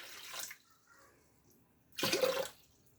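Water pours onto a kitchen scale in two short bursts, measuring out 600 g, with a brief quiet pause between the splashy, close pours.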